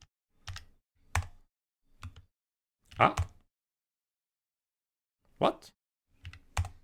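Computer keyboard typing while working in a terminal, heard as sparse clusters of key clicks and taps in short bursts with pauses, close and moderately loud, with a brief spoken word.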